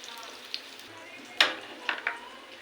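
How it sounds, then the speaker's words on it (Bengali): Onion and garlic fry softly in oil, a faint low sizzle punctuated by a few sharp scrapes and clinks as the pieces are lifted out of the pan, quiet and close. "ভেজে নিয়েছি, এবার তুলে নেব তেল ঝরিয়ে"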